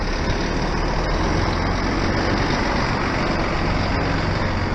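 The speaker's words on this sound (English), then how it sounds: "Let's get a bit nearer with the trailer." A truck eases a straw trailer toward a farm workshop, its engine a steady, close drone with no break across the whole stretch.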